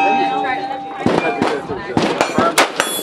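Bolt-action rifle fired at a shooting range: several sharp, loud reports in quick succession with metallic clanks between them, close by, with no talk in the clip.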